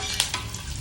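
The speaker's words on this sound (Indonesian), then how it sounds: "Menggoreng bader untuk kotokan tidak perlu terlalu kering agar nanti masih bisa diambil dagingnya." Bader fish frying in hot oil for a spicy dish, a continuous close sizzle with a few brief crackling pops and no voices.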